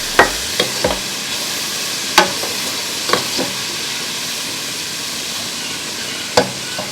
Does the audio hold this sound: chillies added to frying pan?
yes